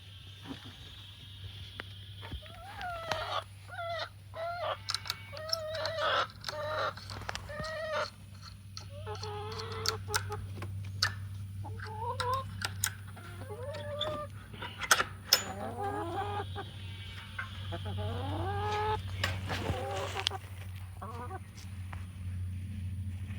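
Chickens on a Central Texas homestead cluck and squawk in scattered bursts, some close and some farther off, over a steady low hum throughout.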